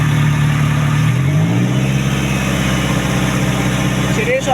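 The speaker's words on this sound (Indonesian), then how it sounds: "Setelah itu kita lanjut bunyi-bunyi abnormal pada mesin. Kita dengarkan. Kita gas sedikit." A car engine idles and is revved slightly while being checked for abnormal noises, the steady mid-pitched hum rising and settling as someone speaks over it.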